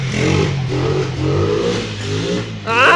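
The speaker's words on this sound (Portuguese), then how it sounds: "Ah, essas motos." A video game motorcycle engine revs up and down in repeated surges, loud and close, with a sharp higher whine at the end.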